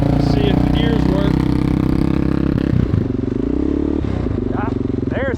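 A Yamaha Warrior 350 ATV engine, muffler plug out, runs loud and close, droning and clattering as it revs and shifts through its gears, with a brief change in pitch partway through.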